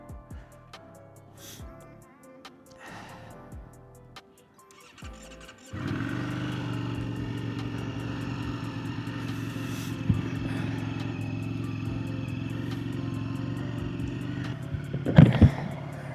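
A motorcycle engine cranks and catches, then settles into a steady, close idle with a low droning rumble, after a quieter stretch of small handling noises and a brief rev blip near the end.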